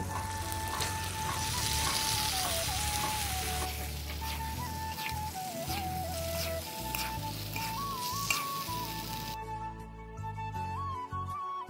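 Chicken meat frying in spices on a clay stove, a steady loud sizzle across the whole stretch, with occasional stirring scrapes and a faint high whistle-like tone running over it.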